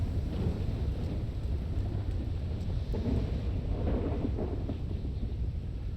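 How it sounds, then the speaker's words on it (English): Steady rain with rolling thunder in a GTA roleplay video game, a continuous dense wash of rainfall and low rumble filling the scene, with no talking. "Get out of the rain."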